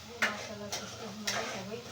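Eggplant and potato roasting in a pan, with a soft steady sizzle under three sharp scraping stirs against the metal, close and moderately loud, no talking.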